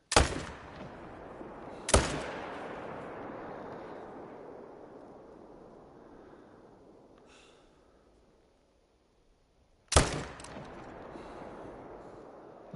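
Rifle shots fired at red deer through bushes in the hunting game theHunter: Call of the Wild: three loud, sharp cracks, two close together and one after a long pause, each trailing off into a long rolling echo.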